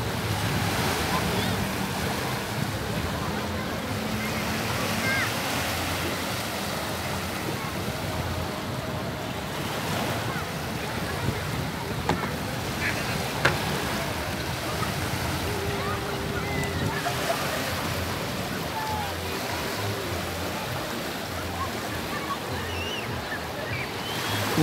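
Surf rolling steadily onto Villa del Mar beach in Veracruz, a continuous wash of breaking waves with wind buffeting the microphone, faint boat sounds and distant voices mixed in.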